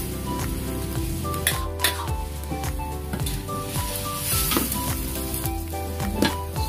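Pancit noodles sizzle and fry in a pan while being stirred, with steady close sizzling broken by repeated scraping and clattering strokes of a utensil against the metal.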